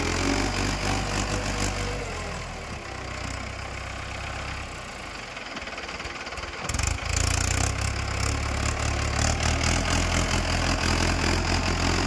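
A homemade jugaad farm sprayer rig's engine idles steadily and loudly nearby, its low drone dipping briefly before returning at full level, with no talk over it.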